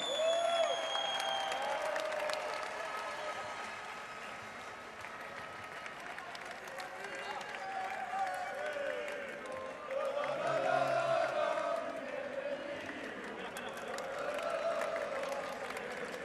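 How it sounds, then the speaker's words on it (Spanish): A large outdoor crowd at Cibeles applauds the father of footballer Mikel Merino during a celebration of Spain's Euro championship, sustained dense clapping and cheering that surges midway, with an announcer's voice heard over it. "Fuerte aplauso hoy para su padre,"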